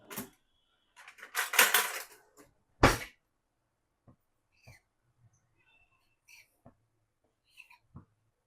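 A knife cuts through rolled bhakarwadi dough in a home kitchen. A burst of handling noise and a sharp knock against the board are followed by a few faint, spaced taps, each one near and brief.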